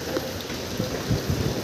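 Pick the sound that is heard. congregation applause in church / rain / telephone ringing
rain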